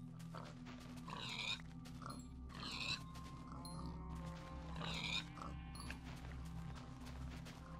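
Pigs in Minecraft give several short grunting oinks spaced a few seconds apart over a low steady background hum, moderately faint with no talk.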